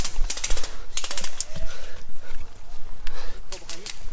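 Airsoft guns fire in quick rattling bursts during a king-of-the-hill match, sharp clicking volleys clustered early and again near the end, with players shouting over the shots.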